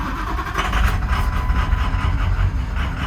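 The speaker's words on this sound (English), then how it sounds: "can hear it chug a little bit and spit there" A 2005 Ford F650 Super Duty diesel truck engine idles with a low, uneven chug, its rumble stumbling and sputtering now and then from a misfire, close by and steady throughout.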